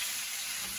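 Steak frying in a pan with garlic, butter and rosemary, giving a steady, dense sizzling hiss that is close and fills the moment with no voices.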